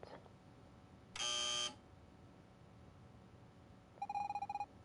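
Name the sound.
buzzer in the video game Evoland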